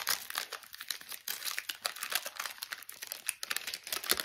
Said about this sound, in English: I'm gonna rip this.